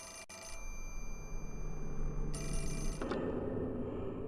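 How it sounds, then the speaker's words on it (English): A telephone rings inside the Fatal Frame IV: Mask of the Lunar Eclipse game, a steady electronic bell tone that stops briefly and then resumes before giving way to a lower ambient drone, with no voices present. "Phone!"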